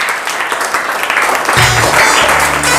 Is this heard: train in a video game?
no